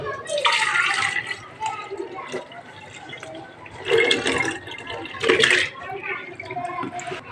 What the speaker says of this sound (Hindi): अब हम इसको इस जग में डालेंगे, दूसरे जग में।